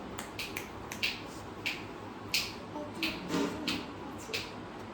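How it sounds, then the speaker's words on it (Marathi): A child snaps fingers at home during a family festival gathering, a series of sharp, light snaps spaced irregularly at close range over a quiet background. "चुटकी वाजून दाखव तुला"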